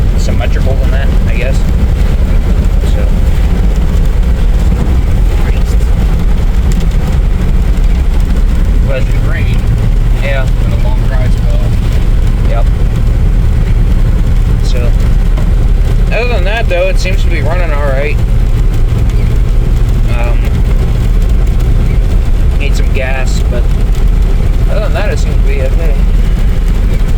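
A GMC K2500 truck cruises at 56 mph on light throttle, giving a loud continuous low engine and road drone inside the cab while a person talks over it.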